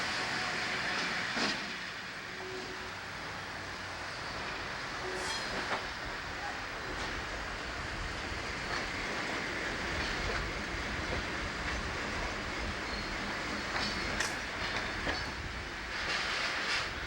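An excursion train pulls into a station, a steady low rumble of rolling cars with faint clicking wheel beats and occasional squeals, heard at moderate distance and fairly quiet throughout.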